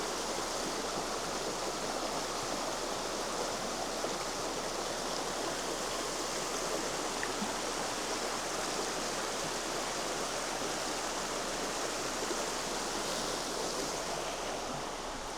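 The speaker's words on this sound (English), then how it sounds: "This is Cedar Creek." Cedar Creek flows through a soaked Montana forest, a steady, dense rushing of water that stays even and fairly close for the whole stretch, with no voices.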